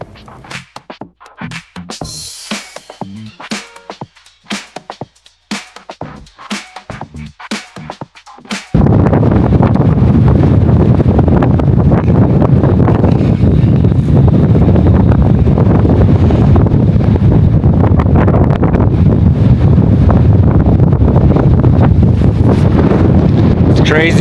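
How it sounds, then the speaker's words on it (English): Strong gusting wind batters the microphone on an exposed mountain summit ledge of Longs Peak, starting as broken buffets and then turning into a loud continuous roar. "Crazy windy up here."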